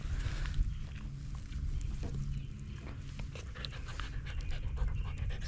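A dog pants steadily while being walked around a farm among chestnut trees, its quick breaths close and continuous over faint footsteps outdoors.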